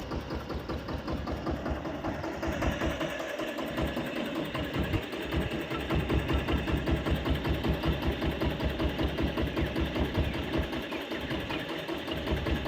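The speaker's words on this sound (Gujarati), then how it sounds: "હવે હમણાં આવશે ટ્રેક્ટર." A tractor engine running steadily for peanut sowing in a farm field, a continuous rumbling idle with a rapid even chug that rises slightly midway, close and loud with no talking.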